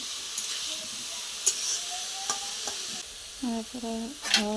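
Egg dal with banana blossom being stirred in a pan, a spoon scraping in several separate strokes over a soft sizzle, with a few brief tonal chirps near the end.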